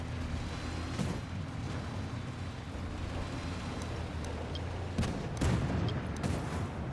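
Tank cannon shots in the AMX 50 120 tank video game: a few sharp booming blasts, one early and a closer pair later, over a steady low engine rumble.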